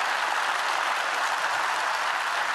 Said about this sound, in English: I ask you please to applaud the staff of the European Parliament and the institutions